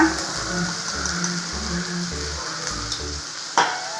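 Vegetables sauté in a pan with salt and turmeric for semiya kichadi, a steady close sizzle with scraping stirs and a sharp clink of a spatula near the end, and no talking.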